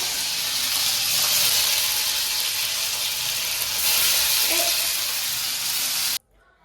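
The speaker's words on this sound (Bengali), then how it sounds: "তাই আজকে পনির আর আলু রান্না করা হবে।" Paneer and potato fry in a pan with a loud, continuous sizzle and hiss close to the microphone, a faint clink partway through, before cutting off abruptly near the end.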